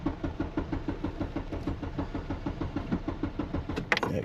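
A Hyundai Sonata with a crank-no-start fault cranking over, a steady, rhythmic chugging of the starter turning the engine at close range, even pulses throughout with no catch, ending in a brief clatter.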